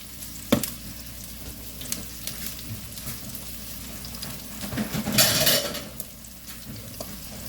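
Vegetables seasoned with salt, pepper and oregano fry in a pan with a steady, close sizzle, broken by a few utensil clinks and a louder stirring burst near the end.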